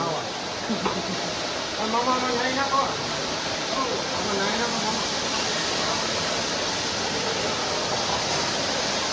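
Water rushes in a steady, continuous hiss from an opened valve, close and constant throughout, while people talk over the flow.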